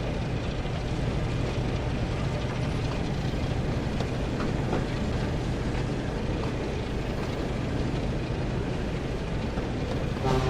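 Diesel engine train running in a Thomas and Friends train game, a continuous loud rumble of rolling wheels and engine with faint clicking, steady throughout.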